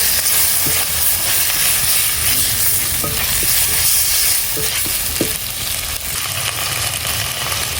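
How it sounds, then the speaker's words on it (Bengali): Onions, potatoes, cumin, ginger and green chillies are sautéed in a pan, producing a loud, steady sizzle with a few soft scrapes and knocks from stirring, up close and uninterrupted by speech. "বেশ খানিকক্ষণ এটা আমি কষিয়ে নেব।"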